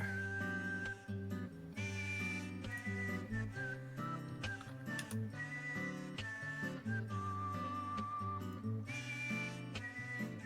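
A melodic whistling music track plays continuously at steady volume during a livestream, sustained tones over a rhythmic backing with no speech.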